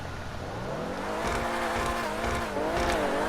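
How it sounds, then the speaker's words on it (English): Dewbauchee Vagner supercar in GTA Online revving hard, engine pitch sweeping up quickly to high RPM with a harsh crackle of backfire, loud and close, no talking. "Let's get a rev backfire. It revs pretty quickly."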